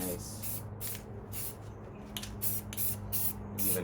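Short bursts of an aerosol spray can lay a primer coat on a custom Beyblade launcher, about seven hissing puffs in an uneven rhythm, close and fairly quiet.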